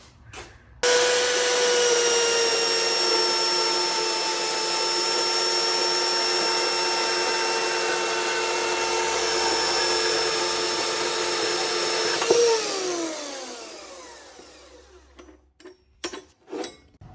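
A power tool notches steel tube for a DIY Toyota Hilux tube bumper, cutting with a loud, steady high-pitched whine for about eleven seconds, then spins down with a falling pitch and leaves a few scattered clicks and knocks.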